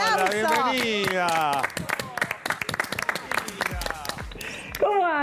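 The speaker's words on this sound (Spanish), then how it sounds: "¡un aplauso!" A TV studio audience claps to welcome a guest, a scattered patter of hands heard beneath loud, excited talk from a host and guest.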